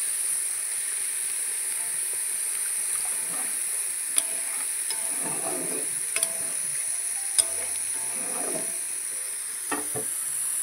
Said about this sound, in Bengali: আর এখন জলটা দিয়ে দেবো।